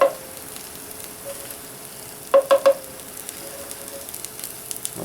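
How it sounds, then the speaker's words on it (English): Eggs scrambling in sausage grease in a pan over a soda can alcohol stove, a steady close sizzle with three quick scraping stirs near the middle and lighter stirring taps toward the end. "I'm going to go ahead and get these eggs moving a little bit. I'm going to kind of scramble them a little bit."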